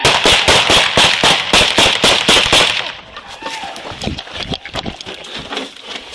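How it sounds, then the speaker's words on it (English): Gunfire at a police call at a home, a rapid close string of loud sharp bangs followed by scattered fainter shots and commotion with voices. "Copy, shots fired again"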